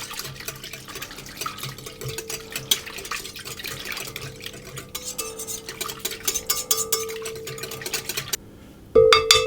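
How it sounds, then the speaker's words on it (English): A whisk clatters rapidly against a stand mixer bowl, stirring a warm milk mixture for sticky bun dough, with a dense, steady metallic scraping and tapping heard up close before a brief louder clink at the end. "I'm just going to whisk that to get that combined."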